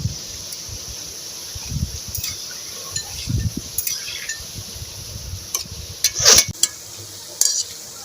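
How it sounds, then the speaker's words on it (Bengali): Ripe mango fritters frying slowly over low heat in oil give a soft, continuous hiss, broken near the end by a few metallic clinks and scrapes of a utensil against the pan. No one speaks. "বড়াগুলো লাল লাল করে ভেজে নিয়েছি"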